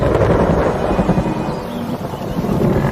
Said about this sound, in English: Storm clouds gather, and finally the weather turns.